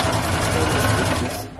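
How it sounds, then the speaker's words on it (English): Sewing machine stitching skirt fabric for a lined straight skirt, a fast steady mechanical whir with rapid needle clatter, close and continuous before trailing off at the end. "Now I'm going to sew it. We make sure you secure your stitches."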